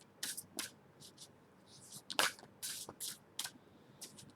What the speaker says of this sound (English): Whispers of Love angel cards. I'm going to shuffle them and pick two.